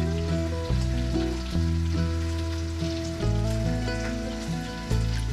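A pork loin roast sizzles as it browns in a hot pan, a steady, moderate frying hiss running beneath prominent background music throughout.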